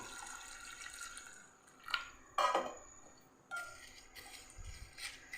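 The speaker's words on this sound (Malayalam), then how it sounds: "ഇനി നമുക്ക് അവിലൊന്ന് കുതിർക്കാനായിട്ട് നമുക്കിതിലേക്ക് വെള്ളം ഒഴിച്ചു കൊടുക്കാം" Water is poured onto flattened rice in a bowl to soak, heard as a few short, quiet splashing bursts separated by near silence.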